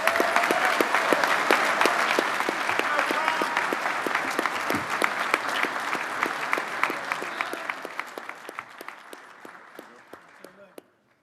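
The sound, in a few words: audience applause at awards dinner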